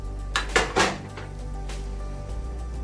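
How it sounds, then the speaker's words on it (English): Cast-iron skillet being shifted aside in a kitchen beside hot biscuits: a couple of quick metallic clanks and scrapes near the start, then a faint later knock over a low hum. "Move this skillet out of the way."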